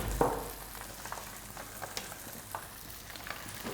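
Fish frying skin-side down in a pan, its skin crisping, gives a soft, steady sizzle with small scattered crackles and pops, close by and with no talk.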